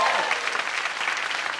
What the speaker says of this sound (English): so you've got to give a louder